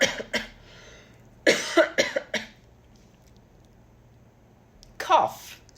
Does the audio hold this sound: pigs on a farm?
no